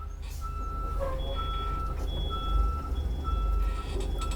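A bus backing slowly in reverse sounds a steady series of electronic warning beeps at a regular rhythm, loud and close over a constant low engine rumble with no talk.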